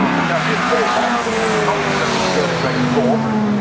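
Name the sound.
race cars including Honda Civic and Ginetta racing at Cadwell Park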